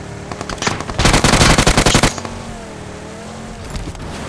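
A loud, rapid burst of automatic gunfire lasting about a second, with a few scattered shots before it and faint echoing background noise after.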